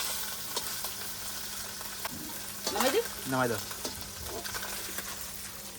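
Tengra fish frying crisp in a pan give a steady, faint sizzle throughout, with a few brief voice sounds and stirring noises over it midway.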